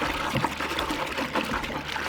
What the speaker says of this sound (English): Just dump it in there and kind of agitate the water a little bit.